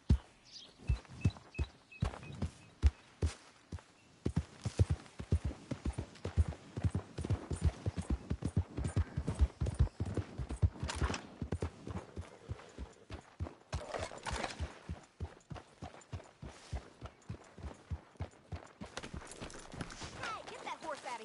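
Horse hooves clip-clop steadily in the Red Dead Redemption II video game, a close, rhythmic walking gait that quickens briefly before slowing, with faint snorts or whinnies.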